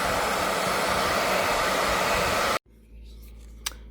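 A hair dryer on high setting blows a loud, steady rushing whoosh for a few seconds while heating glue on a Bose QC45 headphone hinge, then cuts off abruptly, leaving a quiet room with a small click.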